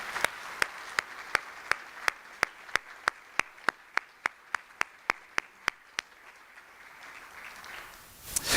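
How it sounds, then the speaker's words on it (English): During a university distinguished lecture honoring outstanding educators, slow single hand claps sound in an evenly spaced rhythm, about three per second. Each sharp clap rings out clearly over a quiet room, then the claps stop and a faint rustle follows. "Please join me in giving them another round of applause to our 2024 Sparks Lecture Outstanding Educators."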